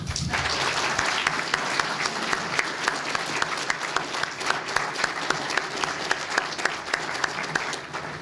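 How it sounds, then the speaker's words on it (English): An audience at the Caldwell County economic development celebration claps in a steady, dense round of applause that holds at full strength for the whole stretch, with no voices rising above it. "what I'd like for you to do with me is give them a round of applause."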